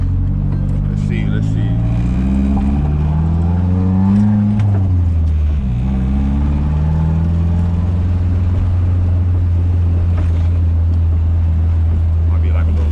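A car with a KA24DET engine drones loudly, revving up and down in pitch as it turns a donut, then settles into a steady hum, with talk faintly underneath.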